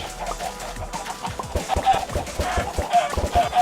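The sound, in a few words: chickens clucking on a chicken farm in video game Minecraft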